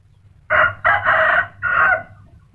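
Thai fighting rooster crowing close and loud: three strong strained crow phrases in quick succession, the middle one longest, over a faint low background hum.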